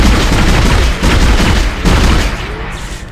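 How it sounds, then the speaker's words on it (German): Explosion in the Dead Space video game, a loud booming blast with rumbling, crackling bursts that dip briefly and then surge again before fading slightly. "Eine Explosion vom Knubbelarm."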